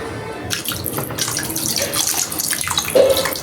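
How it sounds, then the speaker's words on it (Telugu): Water pours steadily into a pot of cooking fish curry, a continuous splashing rush that swells near the end, with no talking. "సరిపోయినంత వాటర్ వేసేసుకోవాలి"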